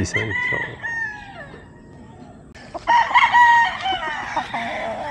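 A sweater gamefowl brood stag crowing in a gamefowl breeding setting, with one loud, close crow followed by more clucking and crowing from other chickens nearby.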